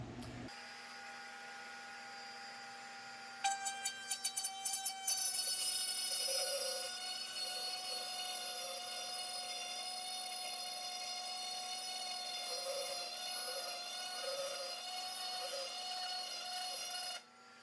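JessEm Ultimate Excell II router table with a spinning router bit steadily cutting a wooden workpiece held by rollers, a sustained high whine that rises as the wood feeds through and then stops, with no talking.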